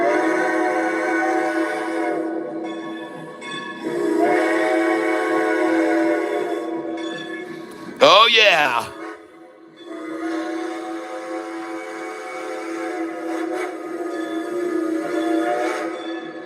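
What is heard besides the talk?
train horn and whistle sound effect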